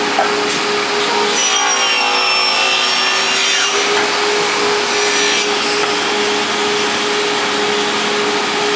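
A Pistorius MN-200 double miter saw fitted with a SawGear cuts wood, giving a loud, continuous blade roar and rasping whine that fills the whole stretch, with a steady motor hum beneath.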